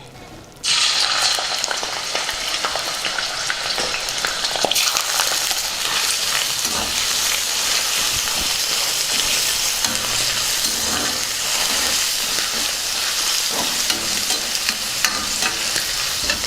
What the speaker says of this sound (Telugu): బోటి వేగుతూ ఉంటుంది